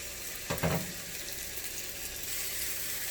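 Bananas for Bananas Foster frying in a pan, a soft broadband sizzle holding steady throughout with one brief louder splutter near the start.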